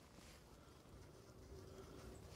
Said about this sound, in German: Da sind die Bienen.